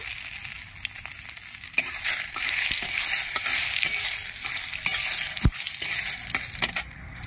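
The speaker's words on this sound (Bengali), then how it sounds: "উচ্ছে ভাজা তেলের মধ্যেই আমি 2টো শুকনো লঙ্কা ফোড়ন দিয়ে দিচ্ছি, 2টো তেজপাতা দিয়ে দিচ্ছি" Two dried red chillies and two bay leaves sizzle in hot oil left over from frying bitter gourd, a steady crackling hiss. Sharp pops and the scrape of a stirring utensil cut through now and then.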